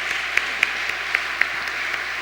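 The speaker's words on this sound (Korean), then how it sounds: "큰 박수 한번 하도록 하겠습니다." At a 2019 church men's fellowship retreat, the congregation applauds a praise choir. The clapping is distant and hissy, with a steady wash and a few sharper claps standing out.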